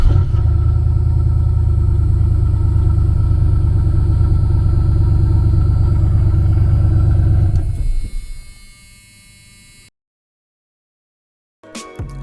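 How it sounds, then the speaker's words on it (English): The turbocharged small-block Ford engine in a Mercury Zephyr idles loud and close with a deep steady rumble, then is shut off and fades into silence, followed by a brief clunk. "I cranked the car up to make sure everything was okay"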